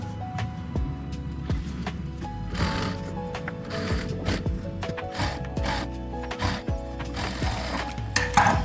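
A sewing machine runs while stitching along the edges of a katori blouse, a steady mechanical whirring with rhythmic needle clatter, close and continuous with slight speed changes.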